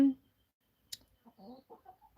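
A few short clucks from chickens on a farm in alpine Victoria, Australia, close by, with a sharp click partway through and quiet gaps in between.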